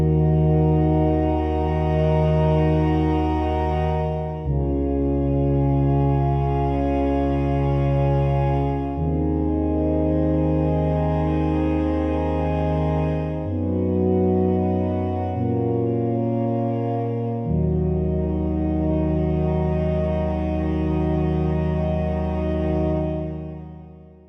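Waldorf Quantum playing sawtooth oscillators through a standard analog low-pass filter swept by an envelope, sounding a series of sustained notes and chords that change every few seconds, loud and alone.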